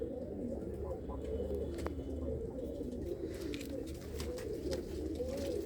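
Pigeons coo steadily inside a loft housing several pairs, a low continuous rolling murmur of many birds close by, with faint rustling and no talk.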